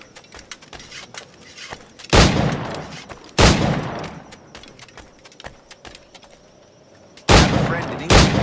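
Three loud, sharp gunshots from a period flintlock-era firearm in Assassin's Creed IV Black Flag, spaced a second or several apart, each with a short ringing tail over quiet background ambience.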